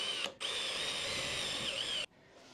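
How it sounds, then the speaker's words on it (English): Power drill boring pilot holes through the metal body of a camper van during a window install, a steady high whine running unbroken for about two seconds after a brief first burst, then cutting off. "I've got to hold the drill this way around because then I can stop it from banging through the van"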